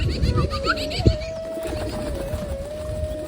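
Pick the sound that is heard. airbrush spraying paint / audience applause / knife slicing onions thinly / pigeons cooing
pigeons cooing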